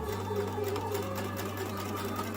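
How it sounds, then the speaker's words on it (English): Sewing machine stitching through Dollar Tree dry mat quilt pieces, a steady loud close motor whir with rapid even needle clatter throughout and no talking. "These little dry mats are super easy to sew through."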